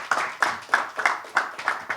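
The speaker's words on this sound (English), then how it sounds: "Big round of applause, ladies and gentlemen, for this 18-year-old sensation, Vanshik." Audience at a pickleball championship press conference claps in a steady, fairly close rhythm, about six or seven sharp sets of hand strikes, a modest round of applause with no voices over it.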